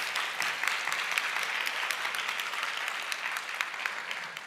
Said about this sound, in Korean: 축하의 박수 한번 부탁드립니다.